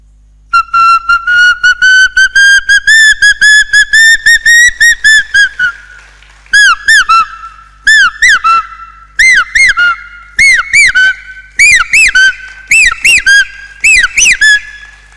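A person whistles through their fingers, mimicking the call of a common hawk-cuckoo: a long run of loud, rapid, repeated rising whistle notes, then separate bursts of sharp ascending phrases, close and clear with no talking.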